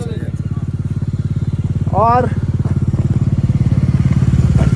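Motorcycles ride the rough high-altitude mountain road at Umling La in Ladakh, their engines throbbing loudly and steadily close by, with a brief spoken word over the engine noise.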